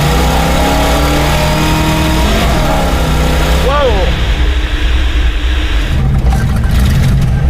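Car engine revving hard for burnouts on a roadside, a loud, sustained roar with a rising and falling pitch sweep midway, as a voice shouts briefly over it.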